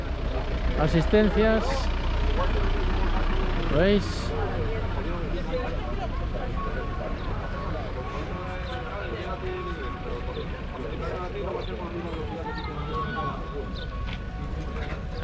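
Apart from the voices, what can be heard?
rally car engines at hillclimb service area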